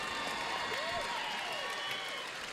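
An audience applauds after a wrestling match, a dense steady wash of clapping and crowd noise with a voice talking over it.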